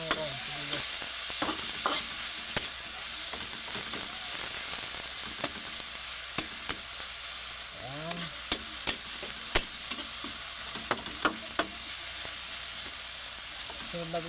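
Onions frying in a pan for squid adobo with tomatoes, stirred as they cook: a steady close sizzle runs throughout, broken by frequent sharp spoon scrapes and clicks against the pan.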